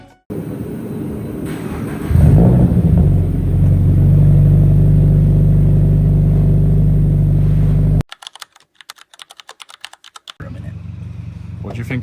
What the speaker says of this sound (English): What do you think of the new exhaust J23RWD?